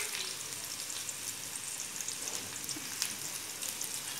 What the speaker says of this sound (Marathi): हे कांदा ह्याच्यात टाकायला आहे.